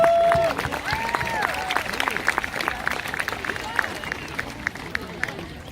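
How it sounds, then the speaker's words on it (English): A crowd applauds a mounted horse's final field demonstration at a Greenfield Village Civil War remembrance event. The clapping is steady and fairly close, running for several seconds beneath overlapping voices and crowd chatter. "Give that horse a round of applause."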